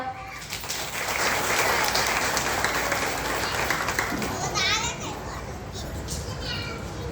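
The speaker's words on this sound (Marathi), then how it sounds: "जोरदार टाळ्या" A crowd claps loudly in sustained applause at a ceremony honoring widows at Sane Guruji Vidyalaya school in Pune, mixed with children's voices and chatter, the clapping tapering off toward the end.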